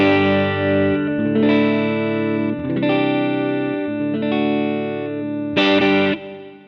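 Electric guitar played through a clean Fractal Audio AX8 preset modeled on a Marshall JTM 45, neck pickup, with a touch of reverb: a series of sustained chords ringing out one after another, clear and close.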